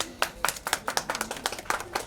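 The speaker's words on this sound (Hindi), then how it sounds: "इतना जोरदार तालियां प्लीज" A small group claps in a loose, uneven rhythm at a Hindi-language talk, a couple of seconds of sharp, close hand claps with no voices over them.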